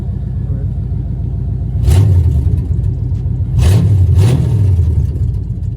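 A Chevy truck engine with stainless steel JBA shorty headers idles with an uneven, stumbling misfire rumble from a damaged wire, revving up twice in brief bursts before settling back.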